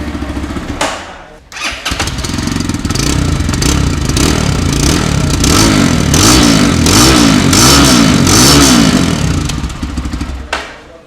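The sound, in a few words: FKM Street Fighter 165R motorcycle dual-barrel exhaust revving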